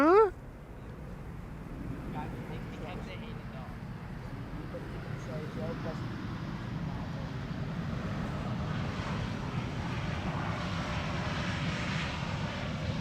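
An Air Transat airliner on Flight 376 from Toronto lands at Schiphol, its engines a steady, broad roar that grows slightly louder and fuller toward the end after a brief sharper sound at the start.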